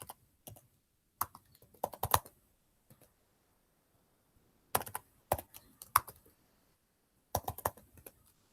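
Typing on a computer keyboard comes in short bursts of soft, close key clicks separated by quiet pauses, as a password is entered in a quiet room.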